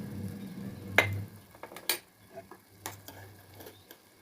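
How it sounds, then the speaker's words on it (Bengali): A metal lid comes off a cooking pot of masala for a prawn malai curry, a sharp clink followed by a few lighter metallic taps and clatters in a quiet kitchen. "ঢাকনাটা খুলে দেবো"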